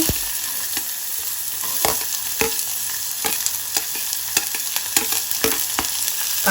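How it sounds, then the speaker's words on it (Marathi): Onion frying in hot oil with mustard seeds, cumin, asafoetida and curry leaves for Goan dal fry, a steady loud sizzle broken by repeated scrapes and clacks of a spoon stirring the pan. "कांदो आमकां मातसो बरो तळसून घेवपाक जाय"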